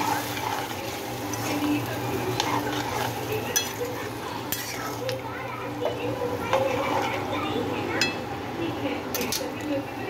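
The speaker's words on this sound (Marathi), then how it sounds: "याच्यामध्ये आपण आता शिजलेलं मटण टाकू. मटण टाकलं की व्यवस्थित हलवून घेऊ" Cooked mutton being stirred into masala in a pot for mutton biryani, with soft scraping and clinking of a utensil, a low sizzle and faint background voices.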